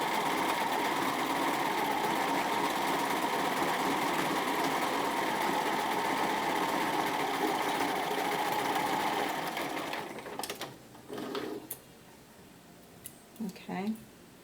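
A sewing machine runs a zigzag seam on a bomber jacket, a loud, steady close whir for about ten seconds before stopping, followed by quiet handling sounds and a voice.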